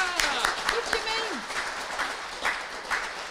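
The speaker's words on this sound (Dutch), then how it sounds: "Je krijgt een heel groot applaus voor jouw kijkersvraag" Audience applause on a Dutch children's television fan day: steady broadband clapping from a studio crowd, with a presenter's voice and a short sliding tone over it.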